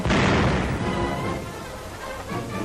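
A 3-inch gun on an M10 tank destroyer fires once with a loud, broad boom right at the start, followed by a long rumbling decay and reverberation that fades over the next two seconds.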